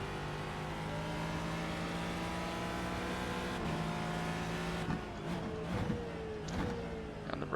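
An Aston Martin GT race car in iRacing at Homestead, a sustained engine drone rising in pitch as it accelerates, then downshift blips and revs as it passes, no voices.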